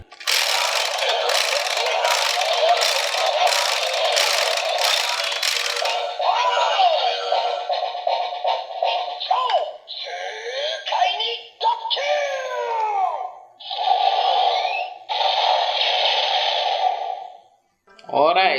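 A DX Zenkaiju Gear toy plays its attack sound effects: a burst of rapid rattling pulses, then a string of electronic zaps, sweeps and bursts with short gaps, loud and close from a small speaker.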